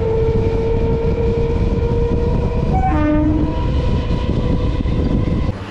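A nearly empty passenger train pulls out of a station near Kolkata, with a loud, steady rumble of wheels and carriages throughout and a brief horn blast sounding midway.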